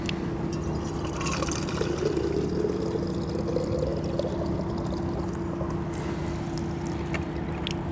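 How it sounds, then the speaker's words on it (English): Water runs from an industrial faucet into a bottle, a steady rushing pour with a faint rising pitch as the bottle fills, outdoors in an urban setting. "I may need to fill up my water bottle, and this key will help me do that."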